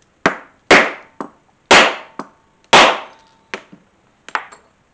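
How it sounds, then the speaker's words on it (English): A hammer strikes a rivet setter while setting rivets on a Halloween-themed guitar strap, giving several sharp, close, loud whacks at an uneven pace, each ringing out briefly before the next. "gave it 3 good whacks"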